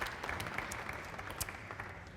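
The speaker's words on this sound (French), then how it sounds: "sous vos applaudissements, s'il vous plaît" Audience applause welcomes a guest onto a panel at a customer-relations round table, moderate and even clapping from a room full of people with scattered sharper claps standing out.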